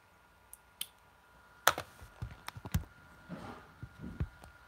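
Names typed on a computer keyboard during a livestream, with scattered clicks and short bursts of keystrokes, close and fairly quiet, with no talking.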